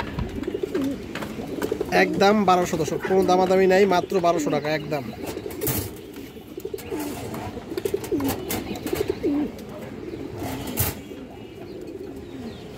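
Domestic pigeons at a seller's coop coo repeatedly in low, rolling bursts near the start, then more faintly, while someone talks over them throughout.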